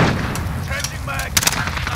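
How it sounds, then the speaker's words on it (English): Gunfire in Call of Duty: Warzone, Modern Warfare team deathmatch: continuous battle noise with a few sharp close shots cracking out near the end, muffled distant booms underneath. "We're taking some fire."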